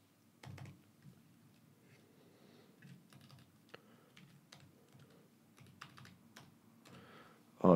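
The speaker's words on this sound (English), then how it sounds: "So I'm just putting in a credit card real quick." Quiet bursts of typing on a computer keyboard as credit card details are entered, soft clustered key clicks with brief pauses between them.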